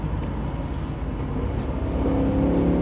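Audi Quattro engine running steadily while the car is driven and cornering gently, a continuous near drone that swells slightly louder toward the end, with no talk over it.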